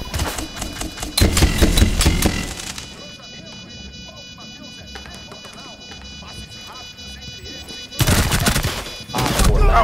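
Gunfire in the tactical shooter Rainbow Six Siege, loud rapid bursts of automatic fire at the start and again near the end, separated by quieter in-game ambience and movement sounds.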